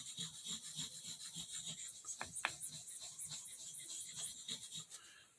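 A knife blade is drawn with firm pressure across a marble whetstone in steady, repeated rasping scrapes, close and fairly quiet.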